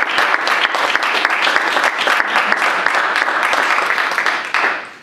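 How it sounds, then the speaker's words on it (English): Lively applause from an academic audience for panelists after a university career panel discussion, dense and steady clapping that fades out at the end. "I invite the audience to join with me in a round of applause for our panelists."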